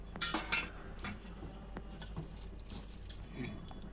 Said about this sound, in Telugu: ఒక స్పూన్ ఆయిల్ కూడా వేసుకొని వీటన్నిటిని బాగా కలుపుకుందామండి.